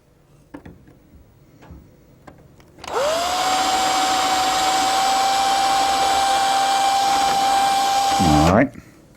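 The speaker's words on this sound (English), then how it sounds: "So we'll drill those holes." A power drill boring a hole, spinning up sharply after a few faint taps and holding a loud, steady whine for several seconds before winding down abruptly.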